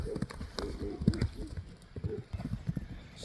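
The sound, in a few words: horse hooves clip-clopping while walking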